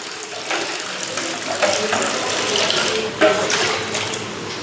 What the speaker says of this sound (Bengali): থালাটা ধুয়ে নিয়েছি বন্ধুরা